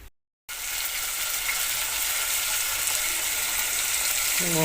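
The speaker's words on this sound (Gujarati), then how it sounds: "વઘાર એટલે કે તેલમાં ચડાવવાનું ચાલુ થઈ ગયું છે" After a brief moment of silence, vegetables tempering in hot oil give off a steady, loud, hissing sizzle that continues evenly to the end.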